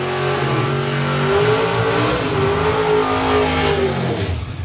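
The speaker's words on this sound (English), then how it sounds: "Let the burnouts go" Drag racing car revving hard during a burnout at a drag strip event, a loud, close, sustained engine roar with rising and falling pitch.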